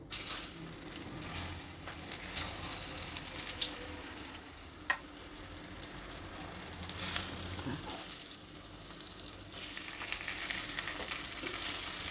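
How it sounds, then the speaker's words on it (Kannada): Chickpea kebabs fry in a pan until crisp on both sides, giving a steady, moderately loud sizzle with occasional clinks and scrapes from turning and lifting them, no voices. "ಎರಡು ಕಡೆ ಚೆನ್ನಾಗಿ ರೋಸ್ಟಾಗಿ ಫ್ರೈ ಆಗಿದೆ"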